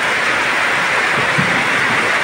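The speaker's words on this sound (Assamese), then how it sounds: "আজি ফাইনেলি বৰষুণ হৈছে চাওক একদম পানী জমি গৈছে ইয়াত চাওক একদম ধাৰাসাৰ বৰষুণ দি আছে" Heavy torrential rain pours down steadily after a long hot spell, water pooling on the ground, a dense unbroken hiss lasting throughout with no voices.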